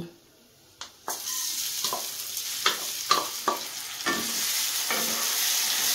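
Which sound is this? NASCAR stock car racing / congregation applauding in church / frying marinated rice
frying marinated rice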